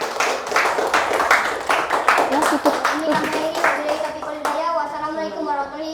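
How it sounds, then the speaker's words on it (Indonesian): Schoolchildren in a classroom clap together for a classmate in a quick, rhythmic burst of hand claps with a teacher's voice over it. The clapping stops partway, and children's voices continue afterward. "beri tepuk tangan kepada temannya ya"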